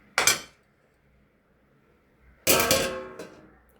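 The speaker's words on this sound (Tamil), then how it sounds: "ஓகே, மூடி போட்டுடலாம்." A metal lid clanks down onto a cooking pot on the stove, two sharp clangs about two seconds apart, close and fairly loud, with near silence between them.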